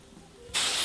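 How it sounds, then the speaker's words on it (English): A short burst of hairspray is sprayed on freshly curled long hair, a sudden loud aerosol hiss that starts halfway through and continues to the end after a quiet moment. "Final hairspray."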